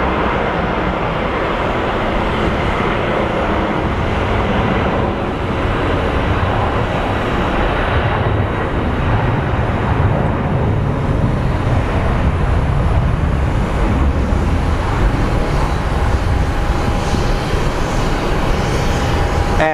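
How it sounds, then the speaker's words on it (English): A Boeing 767 takes off at Phoenix Sky Harbor International Airport into strong winds, a loud, steady broadband jet roar that holds for about twenty seconds with no break. "And the 767 is airborne. Battling those winds up there."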